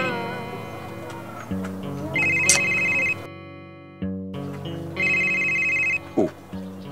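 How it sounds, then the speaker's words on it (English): Mobile phone ringtone sounding from a pocket, a looping electronic melody with bright repeated beeps that cuts off briefly and resumes, fairly close, with a low background hum and no clear talking. "You see, the phone is ringing from your pocket."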